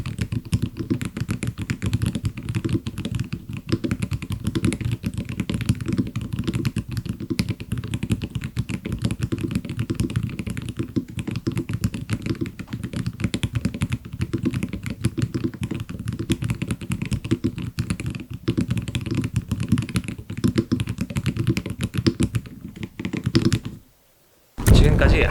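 Fast, continuous typing on a Hansung TFG Magnetox XF magnetic gaming keyboard with rapid-trigger switches, dense clicking taps over a low background rumble, ending with a brief pause and a final burst.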